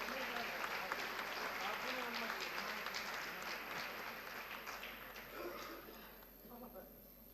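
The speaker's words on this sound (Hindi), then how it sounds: "उनके लिए एक बार जोरदार ताली बजाइए।" Audience at a saints' gathering in Chitrakoot gives sustained, dense applause across the whole stretch, steady and fairly loud, tapering slightly near the end with a few voices mixed in.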